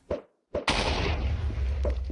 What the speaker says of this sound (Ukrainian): Будьте обережні, тому що самі кристали вони е, вибухають, коли ви їх ламаєте.